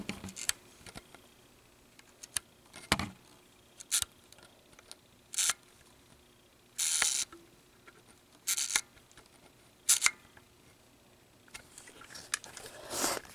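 The shutter speed dial on a Kodak Signet 80 rangefinder camera turns in a run of crisp, close mechanical clicks and short ratcheting bursts, spaced irregularly against a quiet background.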